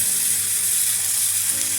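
Vegetables and a large tomato fry and get stirred in a pan, a dense, steady sizzle close by, with no talking.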